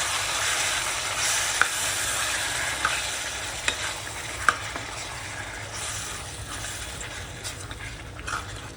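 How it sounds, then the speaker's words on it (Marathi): A spoon stirring ground spice paste as it fries in a pan for chicken sukka, a steady sizzle throughout with a few sharp scrapes and knocks against the pan, close and alone. "आता आपण हे एकत्र मिक्स करूया."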